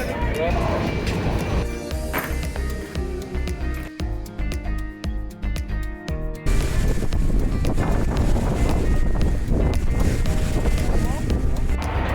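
The passenger launch Farhan 9 departs Bhola under a constant roar of wind buffeting the microphone, with a low vessel rumble and a voice speaking throughout.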